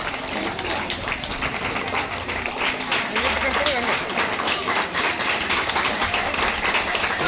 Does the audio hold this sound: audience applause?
yes